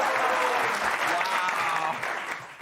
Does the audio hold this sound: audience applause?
yes